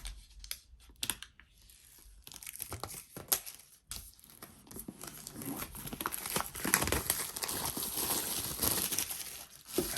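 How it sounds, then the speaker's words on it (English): Crinkling and rustling of plastic wrap as an iPad Air box is opened, starting with sparse close crackles and building into dense, continuous crinkling, with no talking. "do I like crinkle up the plastic and stuff to make the extra effect noise?"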